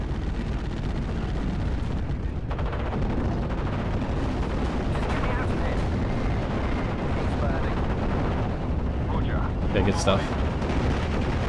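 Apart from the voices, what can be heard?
artillery fire in Steel Division: Normandy 44 video game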